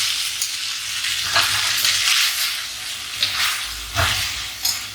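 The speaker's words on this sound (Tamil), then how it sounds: "இப்போ நம்ம அந்த வேக வச்ச சேமியாவை இதில் போட்டு கிளறணும்." Boiled vermicelli is stirred into sautéed onions in a pan with a steady close sizzle of frying, and spoon scrapes and stirring clatters come through at intervals.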